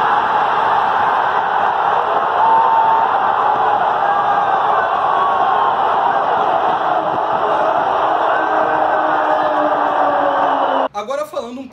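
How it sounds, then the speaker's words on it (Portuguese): Stadium football crowd celebrating Athletico Paranaense's title-winning penalty in the 2018 Copa Sul-Americana: a dense, sustained roar of cheering and chanting that holds steady for the whole stretch before breaking off near the end. "vou deixar um pouquinho vocês verem como foi o pênalti e como a torcida comemorou essa conquista"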